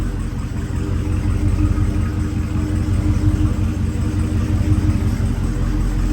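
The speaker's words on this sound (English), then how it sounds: "the exhaust just sounds amazing" Continuous deep engine rumble with a throaty exhaust drone from a sixth-generation Chevrolet Camaro with a modified exhaust, steady and close, no voices.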